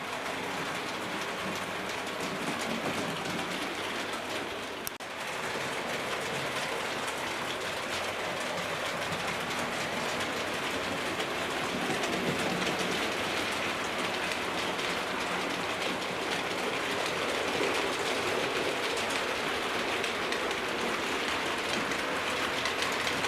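Hornby and Bachmann model trains, including a Class 56XX, Adams Radial and Class B17/6 pulling carriages and box wagons, run around a layout with a steady, dense rolling rattle and hiss that continues unbroken throughout.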